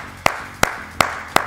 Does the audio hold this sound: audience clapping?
yes